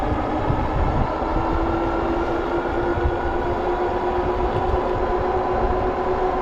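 Kevin Levi Orion motor run at full throttle into a headwind: a steady, loud droning whine with sustained tonal hum over continuous wind rush, unbroken throughout with no talking.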